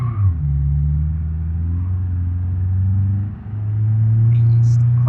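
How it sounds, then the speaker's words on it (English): A four-cylinder car engine in the driving game BeamNG.drive, a loud steady low rumble that dips briefly as the revs change and then swells again, with a voice talking over it. "Oh, that's a nice sounding 4-cylinder."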